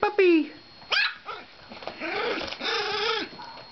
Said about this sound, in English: It's Murphy making noises.